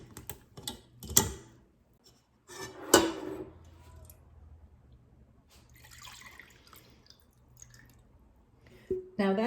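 Buttermilk drains from freshly churned butter into a pot, giving scattered drips and small liquid splashes with a few sharper taps, mostly close and fairly quiet, separated by near-silent pauses.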